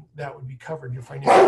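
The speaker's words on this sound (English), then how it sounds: "that's my dog." A dog barks several short times in the background, indoors during a financial aid workshop, while a person keeps talking over it.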